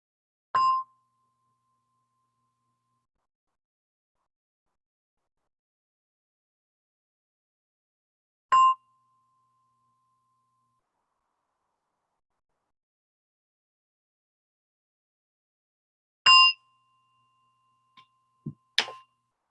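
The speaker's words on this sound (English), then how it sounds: "As you hear the gong, close your eyes and practice." Meditation gong struck three times at long, even intervals, each a short bright ring that fades quickly into silence, followed by a few faint clicks at the end.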